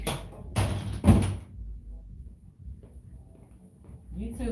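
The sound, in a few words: door being closed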